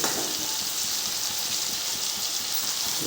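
Cumin seeds dropped into hot oil for a chicken curry give a steady, close, bright sizzle that holds evenly throughout with no talking.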